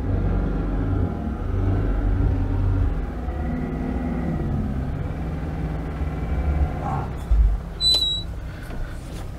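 An old Oltcit hatchback with only a working handbrake drives along, its engine and road rumble steady and close throughout, with a few brief clicks and higher squeaks near the end.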